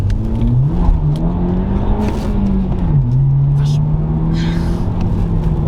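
A Stage 1 tuned BMW 1 Series F20 114i M Sport accelerates in a 0 to 100 run, its engine note rising, dipping at a gear change, then climbing again, heard from inside the car with people talking over it.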